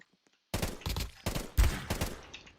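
Rapid bursts of gunfire from a shooter video game weapon that fires fast and hits hard, starting after a brief quiet, then several loud volleys in quick succession with one heavier blast near the middle.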